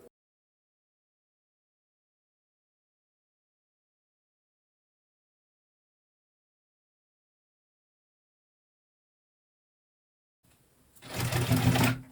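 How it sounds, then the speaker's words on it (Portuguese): An electric sewing machine runs a short, fast burst of stitching over the strap of an insulated thermal carry bag, starting abruptly near the end after a long stretch of silence. "a gente tá costurando agora por cima da alça"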